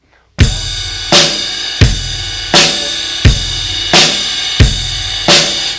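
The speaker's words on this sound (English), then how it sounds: "So now what we're gonna do is we're gonna work on the full rock groove 101" A drum kit plays a steady rock groove, kick and snare alternating with cymbal wash, evenly spaced strong hits ringing out, close and loud.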